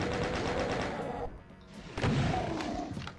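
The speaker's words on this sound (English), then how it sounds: "So let's get ready with our chain gun." Chaingun fire in the video game DOOM, a rapid run of close, loud shots over about a second, then a brief lull and a second burst with heavy thuds.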